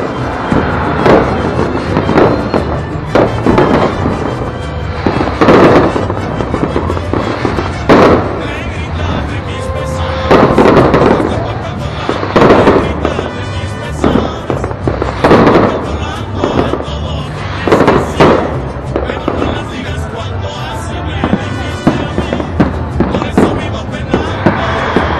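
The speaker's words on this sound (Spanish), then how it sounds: "nos agarraron los fuegos artificiales ahí" Fireworks burst repeatedly during an Independence Day night celebration in Querétaro, loud cracking bangs coming in irregular clusters over a crowd, with voices chattering beneath.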